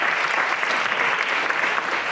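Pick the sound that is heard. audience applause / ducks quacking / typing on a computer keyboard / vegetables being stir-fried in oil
audience applause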